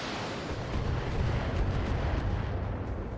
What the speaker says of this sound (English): every single missile missed